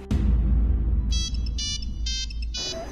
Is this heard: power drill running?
no